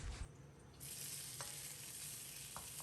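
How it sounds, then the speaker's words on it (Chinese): Green chili peppers are stir-fried in a wok with a little soy sauce: a soft scrape and clack of the spatula, then a steady, fairly faint sizzle that swells and holds, with a couple more light utensil knocks. "简单翻炒扒拉2下，把尖椒炒至入味"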